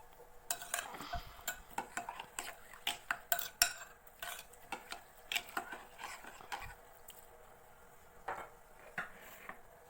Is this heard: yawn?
no